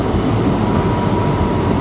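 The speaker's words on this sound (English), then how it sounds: "This is my first time travelling on a Taiwanese train." Steady rumbling ride noise inside a Taiwanese passenger train in motion near Taitung, a continuous loud low roar with broadband hiss and no talking.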